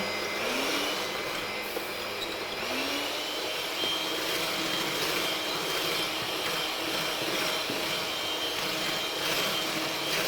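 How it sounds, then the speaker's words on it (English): Egg whites are whisked to stiff peaks for a light jam sponge cake, giving a steady, loud whirring drone that runs unbroken for the whole stretch with no talking. "Just whisking it until it gets into stiff peak, so it's just holding its own."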